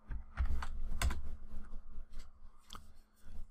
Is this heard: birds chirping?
no